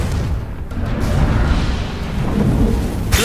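Confringo fire spell bursting in Hogwarts Legacy, a deep rumbling blast with heavy low-end boom that rolls on for a few seconds before a sharp crackling burst at the end.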